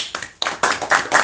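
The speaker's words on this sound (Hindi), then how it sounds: "ताली तो बजा दी।" Audience clapping at a spiritual talk, several quick bursts of many hands striking together, uneven and close, each swell fading briefly before the next.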